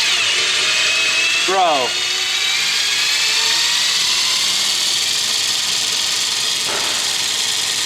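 A power tool whines at high pitch while loosening a car's center lock wheel nut, running steady and loud throughout with a brief rising chirp early on and a short spoken interjection.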